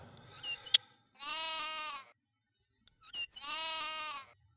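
Baby donkeys in the game Die Siedler 4 bleating like goats, two clear bleats about two seconds apart, each preceded by short chirps, crisp and isolated against silence.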